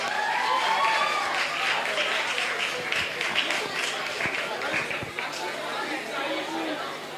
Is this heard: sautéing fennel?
no